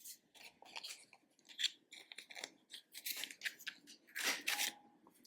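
Scissors snip through gluey paper while cards are being made: quiet, close, uneven crunching cuts and rasping slices come in irregular bursts, with no voices.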